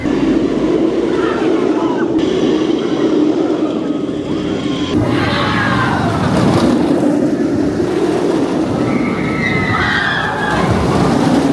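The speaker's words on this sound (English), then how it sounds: "So that was the best ever ride I've had on Nemesis Reborn" Aboard the Nemesis Reborn inverted roller coaster at Alton Towers, with a loud continuous rumbling roar of the train on the track, rattling and surging, and riders screaming over it.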